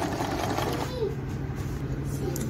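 A sewing machine stitching a buttonhole hums steadily up close under a person speaking faintly.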